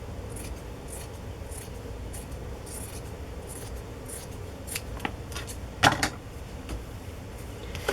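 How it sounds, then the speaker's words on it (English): Scissors snip repeatedly at the fabric of a quilt square, close and crisp, as uneven edges are trimmed with a handful of quick cuts followed by a louder, sharper snip near the end. "So I'm going to trim a little bit of this off just so they're not quite so uneven"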